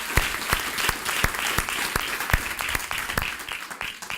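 A church congregation applauds with strong, distinct claps ringing out at an uneven rhythm over a continuous bed of clapping, moderately loud and without voices.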